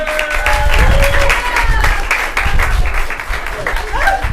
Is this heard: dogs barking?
no